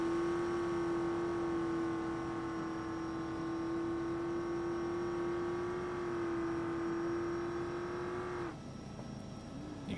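An off-road desert racing truck engine in the BeamNG game drones at a steady high pitch, then drops off sharply as the throttle is released near the end.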